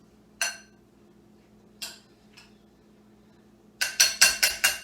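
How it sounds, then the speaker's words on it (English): Chopped salsa vegetables stirred in a bowl: a few sparse clinks, then a quick rhythmic burst of six or seven scraping taps near the end, close and fairly quiet. "let's go ahead and stir those up"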